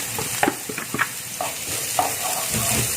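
Tempeh sautéing in a hot pan, a bright steady sizzle with scattered clicks and scrapes of stirring close by, no talk.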